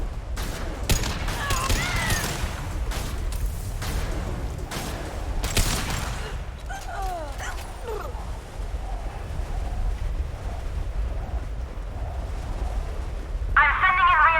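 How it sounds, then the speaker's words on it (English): High-impact gunshots in the game Mass Effect Legendary Edition: a run of loud, sharp shots over roughly the first six seconds, followed by quieter ambient rumble with voices speaking. "Firing a high-impact shot."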